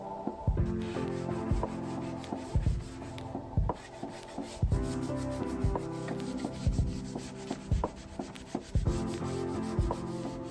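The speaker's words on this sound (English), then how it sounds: "Here I am using a fine grit sanding block" Fine grit sanding block rubbed over furniture wood, a steady scratchy rasp in repeated strokes with small knocks and bumps, close and fairly loud throughout.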